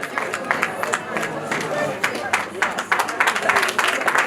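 Wedding guests clap in a lively, continuous round of applause, with crowd murmur and busy hand-claps filling the room at close range throughout.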